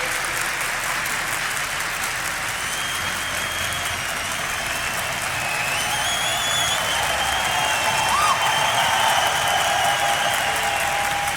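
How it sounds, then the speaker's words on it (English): A large arena crowd applauds and cheers steadily at a Counter-Strike esports semifinal at DreamHack Masters Malmö, a dense, continuous roar that swells slightly louder toward the end, with faint tonal tones above it. "And now the crowd's getting into it."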